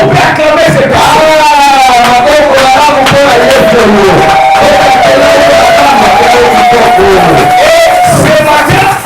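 A church congregation loudly acclaiming and cheering, a dense, sustained roar of shouts, whoops and raised voices that fills the room throughout.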